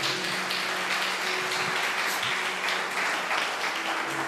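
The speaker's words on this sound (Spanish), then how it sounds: "denle un fuerte aplauso al Señor." Church congregation applauding at a Sunday service, steady sustained clapping from many hands filling the room for several seconds.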